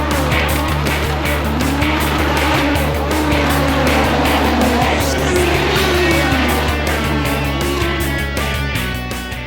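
Turbo-era Formula 1 race cars start a race, a loud dense roar of many engines revving together with rising and falling whines, close and continuous, no talk.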